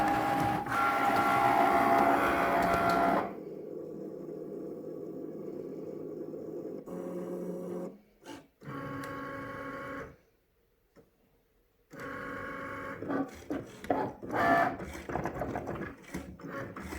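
A Cricut cutting machine engraves filled lettering, its motor whirring and clicking steadily up close, with changing tones, brief pauses and near-silent gaps as the head moves between strokes.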